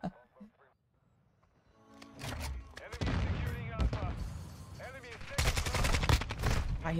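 Gunfire in Call of Duty: Modern Warfare II, dense rapid shots and bursts in a continuous loud barrage with a few short quieter gaps, with someone talking over the shooting.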